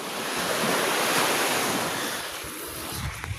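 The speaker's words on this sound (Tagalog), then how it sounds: "Ito yung dagat." Sea waves break at a river mouth near Fortune Island, a steady, close roar of surf mixed with wind rush that holds for the whole stretch, with no voices over it.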